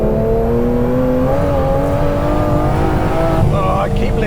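Supercar engine pulling hard in third gear, a loud, steady rising roar with strong harmonic whine throughout, slight tire noise toward the end.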